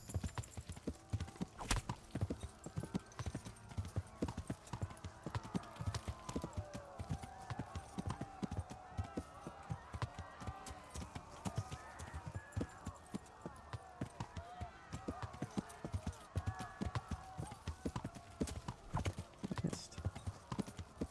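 Horse hooves pound at a gallop in a medieval video game set around burning Skalitz, a fast, continuous clip-clop close by, with a voice talking over it and occasional faint whinnies.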